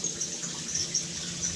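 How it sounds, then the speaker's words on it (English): Water gushes steadily from a Heritage Deluxe Thermoflex shower unit, a continuous close hiss and splash with no voices. "And here we've got the water gushing out there."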